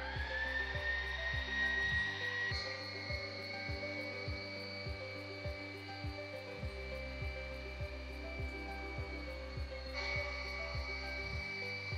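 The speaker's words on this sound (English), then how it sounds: "So I'm gonna turn my grinder on." Electric food grinder running steadily, grinding whole-food ingredients for homemade dog food, a close, loud motor whine with a rhythmic mechanical chatter and slight pitch shifts as the load changes.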